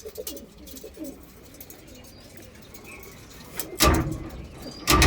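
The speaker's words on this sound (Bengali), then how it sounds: "এই হলো বাকি কবুতরগুলো, এগুলো এবার পাল্লায় যাবে এবং টুর্নামেন্টে যাবে" Racing pigeons in their loft coo softly in low repeated calls, joined by fluttering and a few sharp knocks and clatters near the end, all close and indoors.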